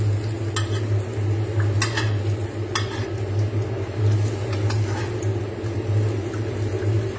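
A cheese omelette sizzles in a frying pan, a steady crackling hiss over a low hum, punctuated by a few sharp clinks and scrapes of a utensil.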